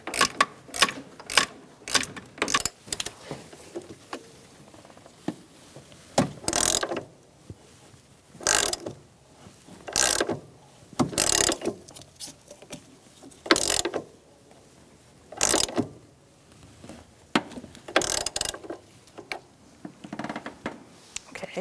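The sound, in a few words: ratchet tightening Ford Focus transmission mount bolts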